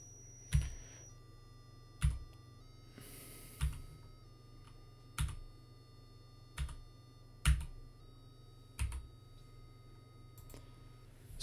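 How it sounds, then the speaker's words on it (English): Sharp clicks from an Apple II computer speaker repeat about once a second, each with a buzzy tone whose pitch shifts as different keys are pressed, close and fairly loud with quiet between. "by changing the delay, changing the frequency of the clicks"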